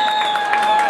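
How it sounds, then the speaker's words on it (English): Audience at Buddy Guy's Legends claps in a brief, steady burst of applause, dense and close. "One more round of applause for Buddy Guys Legends."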